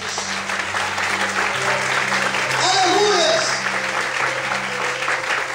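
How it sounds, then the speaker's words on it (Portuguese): A church congregation keeps up dense, sustained applause in a large room while a voice sings or calls out over the clapping. "Cadê as palmas para Jesus?"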